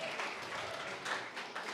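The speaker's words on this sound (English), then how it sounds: "I want to give a round of applause for your answer" An audience at an AI talk applauds steadily, a dense, moderately loud wash of clapping with no voices over it.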